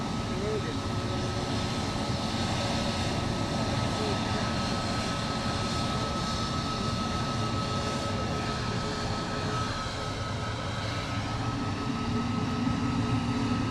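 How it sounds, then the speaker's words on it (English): A Wizz Air airliner taxiing at London Luton Airport, a steady jet engine whine and rumble heard from some distance, with a constant high tone sitting above broad noise throughout. "Wizz Air here holding short of the runway. As it taxis around."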